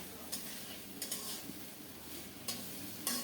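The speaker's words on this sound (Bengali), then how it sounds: "মশলার সাথে মূলাটাকে আরও একবার ভেজে নেব কিছুক্ষণ" Radish pieces fry with spices in a pan under a quiet, even sizzle, while a spatula scrapes and clicks against the pan about five times at uneven intervals, near and faint, with no voices.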